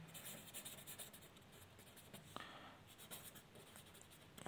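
A pen writes an answer on paper with a steady, soft scratching of short strokes, quiet and close, and one brief tap partway through.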